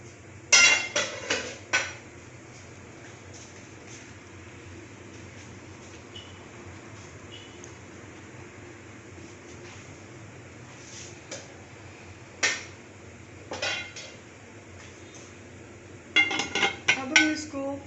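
A brownie mould set into a preheated stone oven makes clattering metal clinks and knocks near the start, a long quiet stretch, then more rattling pot-and-pan clanks toward the end, all close and fairly loud.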